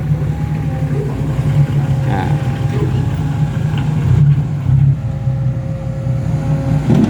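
A Kobelco SK200 Super X M excavator's diesel engine revs hard while lifting, a loud, close, sustained drone with slight surges and no talking.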